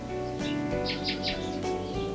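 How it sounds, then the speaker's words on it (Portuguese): Nightingale song: a few quick, bright chirps and phrases ring out over a steady low hum of background noise, fairly faint and brief. "O canto do rouxinol, ao contrário de outras aves, deve-se a um comportamento mais cultural que instintivo"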